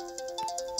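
An incoming-call phone ringtone plays as a short run of bright, repeating electronic chime notes in a quick rhythm, moderately loud and alone with no voices.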